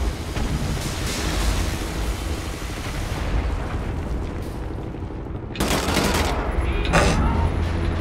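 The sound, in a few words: gunfire from dual-wielded guns in video game Wolfenstein: The New Order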